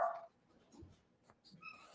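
A dog barking and yipping, a few short faint yelps scattered through a quiet room, with no one speaking.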